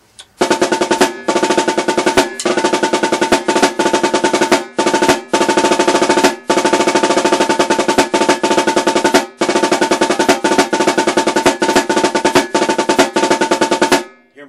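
Drumsticks play the Connecticut Halftime rudiment with five-stroke rolls throughout: dense, rapid buzzing rolls in repeated bursts with brief gaps, loud and close on a snare-like surface, no talking.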